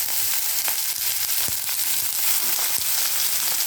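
Leafy greens such as red amaranth, Malabar spinach and pumpkin flowers fry in an onion-garlic tempering, giving a steady, dense sizzle with light crackles close by and no voices.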